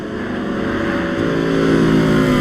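Car engine in the Assetto Corsa Evo racing game, a steady loud droning tone with a slowly rising pitch as the car accelerates, running alone without talk.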